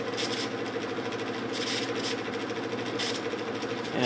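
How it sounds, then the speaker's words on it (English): A 1950s vintage GE window ventilator fan running on medium speed, its motor giving a steady close whir with a faint scraping rasp from the back that swells in brief bursts about every second and a half. "There's a bit of scraping in the back of the motor."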